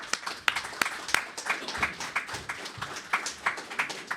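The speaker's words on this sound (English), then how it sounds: "Give John a round of applause." A round of applause for John Bender, partner at Corr Cronin, arriving onstage: scattered, fairly light clapping from a modest audience, with sharp individual claps standing out.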